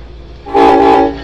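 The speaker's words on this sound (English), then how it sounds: "Oh man, driving a Run 8 related train." A locomotive horn in the Run 8 Train Simulator game sounds a loud, steady blast of just under a second after a quiet rumbling start.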